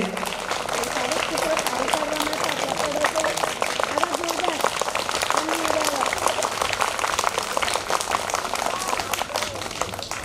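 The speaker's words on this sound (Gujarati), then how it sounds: "ચાર તાળીઓથી વધાવીએ" An audience at a primary school Republic Day honour ceremony claps steadily in dense, continuous applause at moderate distance, with a voice speaking faintly beneath the clapping early on.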